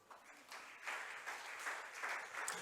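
A church congregation claps and cheers for the Lord during a Sunday sermon, faint, distant-sounding applause swelling in rhythmic waves over a few seconds.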